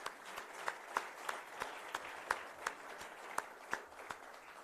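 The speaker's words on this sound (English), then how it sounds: "So a big round of applause to these wonderful coaches." Applause for coaches at a sailing club gathering, quiet and sparse with a steady rhythm of distinct claps, as if from a small group, heard from a distance.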